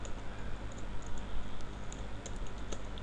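Soft keyboard typing on a computer while entering text in Microsoft Word, a steady patter of light clicks over low background hum, close and faint.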